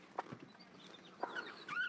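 Soft, scattered clucks and chirpy calls from a hen nearby with eggs hatching, quiet and intermittent over a faint background.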